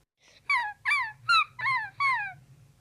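A dog whimpers five times in a steady rhythm, each a short, high, whining cry, close by with a low rumble underneath.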